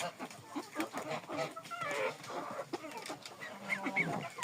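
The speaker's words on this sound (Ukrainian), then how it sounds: "Курочка гарненька все підійшла" Jersey chickens cluck and murmur close by in a farmyard, soft irregular calls repeating throughout, with a person speaking quietly over them.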